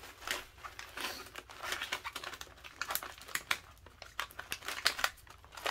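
A rattly MRE accessory pouch of ring-shaped barbecue protein puffs is crinkled and handled up close, its plastic crackling in quick irregular bursts with the dry puffs shifting inside.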